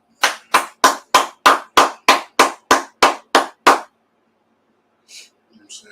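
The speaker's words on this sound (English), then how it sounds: "clap it up." Thirteen sharp, evenly spaced hand claps ring out close and loud in a gym, each crisp and separate in a steady rhythm, followed by a pause and a few faint knocks.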